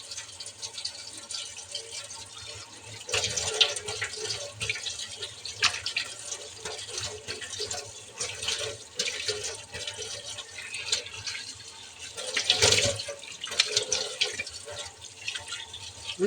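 Running tap water rinses a clay face mask off skin, a continuous splashing flow with louder surges as hands move through the stream.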